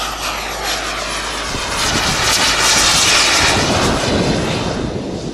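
A heavy aircraft roars past at an airshow, a loud, broad engine drone that swells toward the middle and stays strong throughout, with no talk.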